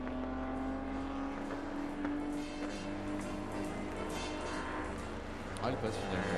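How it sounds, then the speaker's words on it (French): A vintage Bugatti race car, number 72, roars past on the Le Mans circuit during a classic car race, its engine a steady loud drone beneath continuous commentary. "Elle passe finalement, la Bugatti numéro 72"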